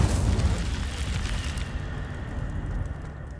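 An Incendio fire spell is cast in the video game Hogwarts Legacy: a loud fiery burst booms out at once, then fades into a rumbling crackle that tails away over a few seconds.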